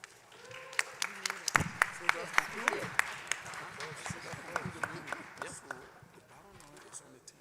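At a council re-organization and swearing-in meeting, an audience claps with sharp, scattered hand claps that ring out in an irregular rhythm and then taper off, heard from a moderate distance in a large room.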